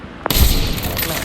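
Gunfire in a mobile battle royale video game: a sharp shot cracks in, followed by a dense, booming burst of rapid fire that fills the remaining second.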